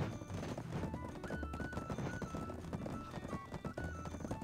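Horse hooves clatter in a rapid, continuous clip-clop during a crowded horse race in the online game Black Desert, mixed with game music and effects at a steady loud level.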